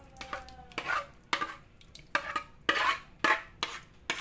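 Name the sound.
pouring cooked pandan gulaman jelly with cornstarch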